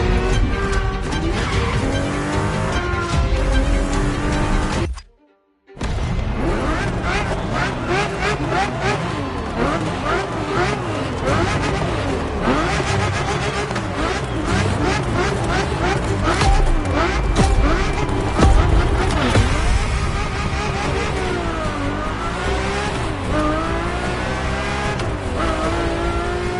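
Ferrari F50 from The Crew driven hard, its engine howling with rising and falling revs through gear changes, loud and continuous apart from a brief silent gap near five seconds.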